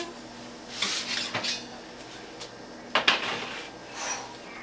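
Metal baking pan of Toll House chocolate chip cookies pulled from an oven, a few close clanks and scrapes of tray on rack in short bursts with quiet gaps between.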